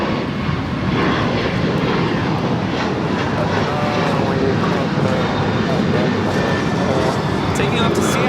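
An Alaska Airlines jet takes off from runway 25 right at Los Angeles LAX, its loud, continuous engine roar filling the whole stretch without letting up.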